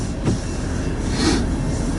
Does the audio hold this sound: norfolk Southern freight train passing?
yes